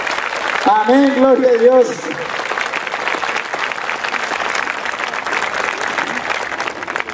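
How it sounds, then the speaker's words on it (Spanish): A congregation at a Catholic priest's gathering in Chajarí applauds loudly and continuously, a dense wash of clapping that carries on for several seconds while a voice speaks briefly over its start. "Vamos con esos aplausos para que se nos vaya yendo esa lluvia, hermanos. Un aplauso más fuerte."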